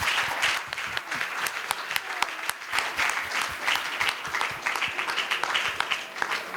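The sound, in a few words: audience applause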